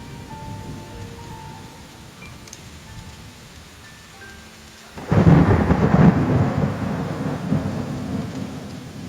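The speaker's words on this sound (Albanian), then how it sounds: "bie shi." Steady rain hisses softly for a few seconds until a heavy roll of thunder breaks in, loud and rumbling, and the rain keeps pouring under its long fading growl.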